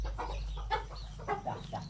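Chickens cluck in short, soft bursts while being fed scattered wheat grains on a rural farm, heard nearby but fairly quiet, with no talk over them.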